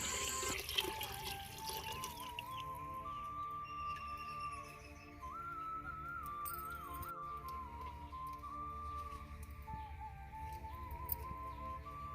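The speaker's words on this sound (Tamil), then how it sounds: "இப்போது வந்து மண்பானை எடுத்து தண்ணி ஊற்றி வேக வச்சுக்கலாம்" Water pours into a clay pot for cooking fish, a steady trickling, gurgling stream heard close up over the whole stretch, with small splashes and clinks and no voices.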